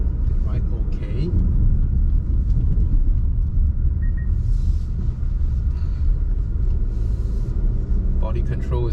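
A Volkswagen Tiguan AllSpace rolling along a road, steady low rumble of tyres and engine heard from inside the cabin, continuous and fairly loud throughout.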